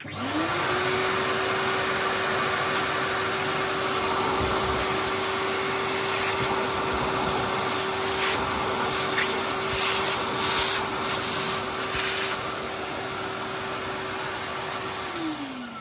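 A Beldray cordless vacuum cleaner motor whirs steadily at close range, spinning up at the start and winding down at the end, with faint rustling and knocks partway through.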